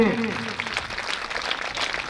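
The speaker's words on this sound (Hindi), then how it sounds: "जोरदार तालियां इसके लिए" Audience applause at a government senior secondary school's annual celebration and donor-honouring ceremony, greeting a Class 6 girl who placed first; a steady wash of clapping follows the tail of a speaker's voice.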